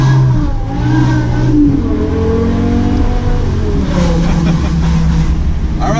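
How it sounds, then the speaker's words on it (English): 2008 BMW E60 M5 with its V10 engine, heard from inside while driving, loud continuous engine drone rising and falling in pitch as it revs through the gears. "Driving 2008 V10 M5."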